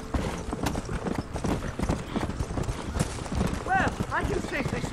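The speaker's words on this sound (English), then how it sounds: "Man, this horse is hauling ass" Galloping horse hooves from the Red Dead Redemption video game, a fast steady clip-clop pounding throughout, close and loud, with a voice talking over the hoofbeats.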